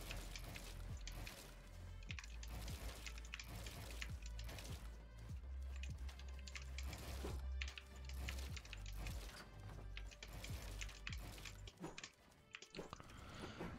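An SK61 mechanical keyboard clatters with rapid, dense keystrokes up close, fairly quiet and almost unbroken for over a dozen seconds, with a brief lull near the end.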